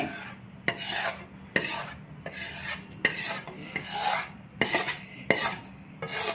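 Roasted wheat flour for laddoos is scraped from a pan into a wide plate, a series of close, rasping scrapes in uneven strokes with brief pauses, no voices.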